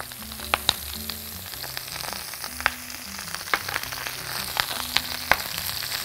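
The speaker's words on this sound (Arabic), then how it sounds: "الووك التانية هحط البصل وبعدين أبتدي أتبل" Onions frying in oil in a wok, a steady close sizzle with scattered sharp crackles and pops throughout, no voices.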